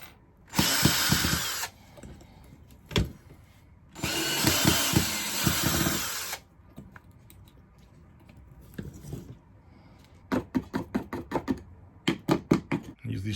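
A power drill backs screws out of a broken chair leg, with two long whirring bursts followed by a series of short, sharp trigger pulses as the bit slips on the screw heads, close and loud with quiet gaps between.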